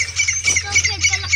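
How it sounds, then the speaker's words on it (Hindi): A titar (partridge) calls in an open field, giving a run of loud, close, repeated squawking notes in a steady rhythm. "ये बोलते हैं इसको तितर"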